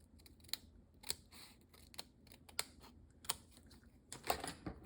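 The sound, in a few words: scissors cutting a strip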